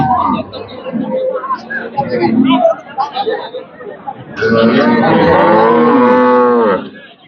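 Cattle lowing at Hazratpur livestock market during a pregnancy check of a dairy cow; a long, loud moo dominates the second half after a stretch of crowd chatter and talk.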